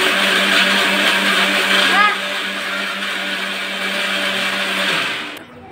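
A mixer grinder whirs loudly and close while grinding poha dosa batter, its motor droning steadily with a slight dip in pitch midway before it winds down and stops near the end.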